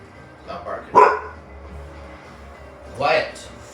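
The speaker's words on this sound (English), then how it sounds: "Stop barking." A dog barks indoors, two short sharp barks about two seconds apart, at moderate loudness, with a person talking nearby.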